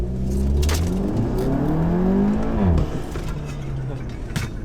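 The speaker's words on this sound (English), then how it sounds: "you got that nice crispy DSG fart" A Mk7.5 Volkswagen Golf R with a 7-speed DSG gearbox in race mode revs up through the gears, its engine tone rising and dropping sharply at the shift with a brief exhaust crackle, loud and close.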